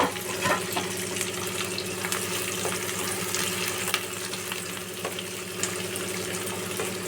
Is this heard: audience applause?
no